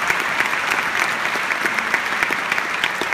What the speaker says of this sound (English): so if we could give those people a big round of applause.